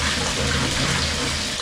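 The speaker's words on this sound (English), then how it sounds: "Let's go ahead and fill the tub up with warm water." Warm water pours from a tap into a bathtub being filled to soak a sleeping bag, making a steady, loud, close rushing splash with no break and no talk.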